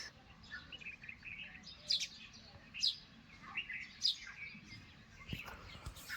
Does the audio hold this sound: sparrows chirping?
yes